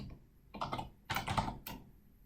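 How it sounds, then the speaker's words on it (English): Typing on a computer keyboard, a few quick bursts of clattering key presses with short pauses between them, close and fairly quiet. "here we can type in hello"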